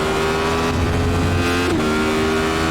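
A Radical SR8 race car's engine in iRacing at Spa-Francorchamps, running at a sustained high drone, loud and close, with a brief pitch dip midway as it shifts or lifts before holding steady again.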